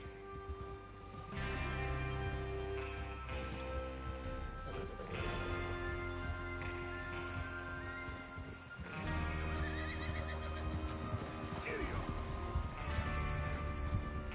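Several horses in Red Dead Redemption 2 neigh and whinny in loud, shrill bursts, with hooves clopping and shuffling nearby throughout.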